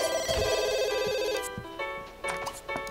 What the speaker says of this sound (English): Answer the phone really quickly.